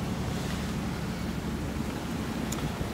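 A sailing boat crossing a calm Barents Sea between Spitsbergen and Norway, heard as a steady wash of water along the hull under constant low wind rush, with no talking.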